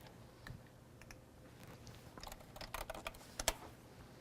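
Quiet keystrokes on a computer keyboard come in scattered single clicks, then quicken into a denser run of taps near the end, the last few sharper and louder.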